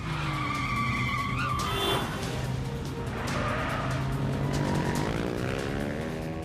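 Two motorbikes skid hard in an action movie chase in a Hindi film, a loud sustained screech of tyres with roaring engines sweeping past up close, and no talk.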